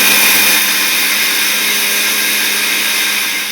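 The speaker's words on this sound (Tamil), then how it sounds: "அதை வந்து இப்போ நம்ம ஃபைனாக வந்து பவுடர் பண்ணிக்கலாம்" An electric mixer grinder powders roasted ingredients finely, giving a loud, steady high-pitched whir that holds constant for several seconds and dips slightly at the end, with no talk.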